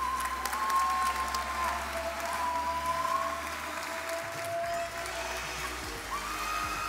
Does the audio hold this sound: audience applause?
yes